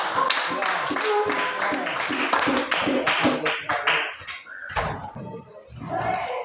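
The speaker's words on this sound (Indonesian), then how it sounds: "Ya, beri tepuk tangan dulu saudara" Students in a classroom give a round of applause, a brisk burst of close hand claps that thins out toward the end, with some voices underneath.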